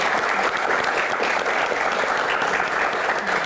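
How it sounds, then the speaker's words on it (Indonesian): Loud, continuous applause from an audience at a Q&A event for Ibu Dwi Korita, many hands clapping steadily and evenly with no break for the whole stretch. "langsung saja kita berikan tepuk tangan dulu untuk Ibu Dwi Korita"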